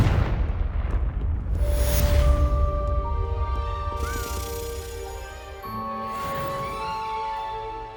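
The Confringo blasting spell goes off in the game Hogwarts Legacy: a loud, deep explosive boom at the start rolls into a rumbling tail, with orchestral game music sustaining underneath.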